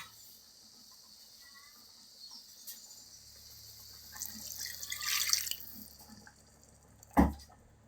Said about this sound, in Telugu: ఇప్పుడు దీంట్లో వాటర్ పోసేద్దాము.